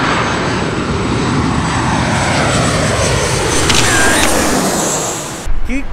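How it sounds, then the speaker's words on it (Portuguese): An airplane roars very low overhead, a loud sustained broadband engine rumble that swells and then fades as it passes, with faint traffic noise and a brief knock at the end. "Vocês vão ver o quão rente passa o avião, mano."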